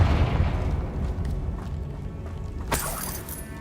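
A Confringo blasting spell goes off in Hogwarts Legacy, a low rumbling boom with a sustained roar, then a sharper crackling burst near the end.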